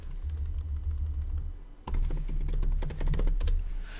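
Typing on a computer keyboard while entering a search term into writing software: a close run of quick, irregular key clicks, pausing briefly before a denser burst of keystrokes.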